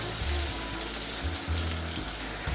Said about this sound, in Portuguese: E eu vou adicionar cebola.